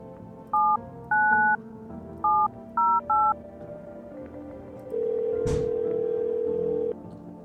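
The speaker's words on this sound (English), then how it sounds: "Okay, let's go make a couple phone calls. 799-708." In the video game No, I'm Not A Human, a phone number is dialed as a run of six short touch-tone beeps in uneven groups, followed by a click and a sustained tone.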